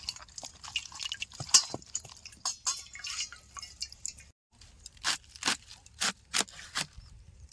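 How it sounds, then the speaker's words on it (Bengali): A whole cabbage being washed by hand, with faint splashes, drips and squishy rubbing in short irregular bursts, quiet and close, with no talking. "গোটা কপিটা একটু ভালো করে ধুয়ে নেবো"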